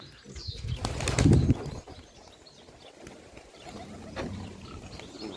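A short burst of pigeons' wings flapping close by, loudest early on, then fainter rustling and a few soft flutters afterward.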